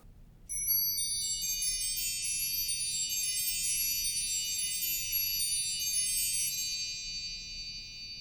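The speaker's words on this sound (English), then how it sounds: "The Zimbelstern is a device with several bells and a mechanism that spins and strikes the bells." Pipe organ Zimbelstern, a spinning star mechanism striking several small tuned bells, rings out as a bright shimmering cascade of overlapping high tones that sustains for several seconds, then slowly fades, heard alone with no talk.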